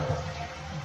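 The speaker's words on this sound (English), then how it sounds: "I'm going to flush the toilet and see whether it works" Rushing water from a toilet flush after a flapper replacement in the tank, a steady close hiss and gush without pause.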